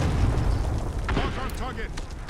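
Heavy airstrike blasts from a Warzone match: a sustained deep rumbling boom with layered explosive bursts, loud and continuous under excited voices talking.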